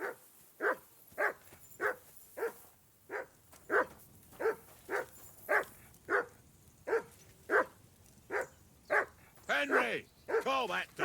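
Dog in the video game Kingdom Come: Deliverance II barking repeatedly at a steady, insistent rhythm, about fifteen sharp barks close by, with a few rougher, more strained barks near the end.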